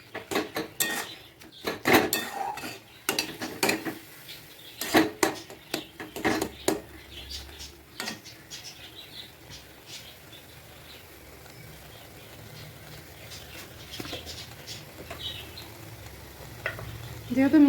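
Milk for carrot laddu stirred in a pan over medium-high heat to dry it out: repeated sharp scrapes and clinks of a spoon against the pan over a low sizzle, busy at first, then thinning out into a quieter bubbling stretch.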